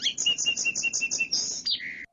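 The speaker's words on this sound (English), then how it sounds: "So the song sparrow sound" A song sparrow sings close by, a run of evenly spaced sharp chirping notes followed by a quicker buzzy trill and a lower closing phrase, all within two seconds.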